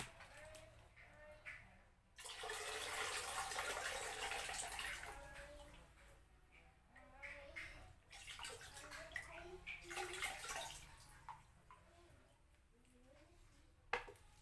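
Excess water poured out of a pot while cooking down cow leather into natural glue, a broad splashing gush in two main bursts with a trickling tail, close and fairly loud.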